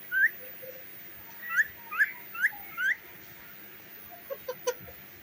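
A pet talking parrot whistles a run of short, rising chirpy notes in bursts, then a few quick sharper peeps near the end, close and clear over quiet indoor background.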